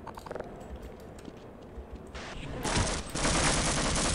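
Rapid bursts of gunfire strike the player in Half-Life, a busy rattle of shots that builds and grows louder and denser toward the end of the stretch.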